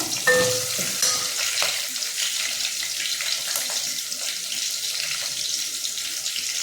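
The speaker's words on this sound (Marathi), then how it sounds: "आता आपल्याला लसूण कढीपत्ता आणि मिरचे हे एकदम टाकायचं" Garlic, curry leaves and green chili hit hot oil in a pan, giving a steady, close crackling sizzle that runs the whole time with no one talking.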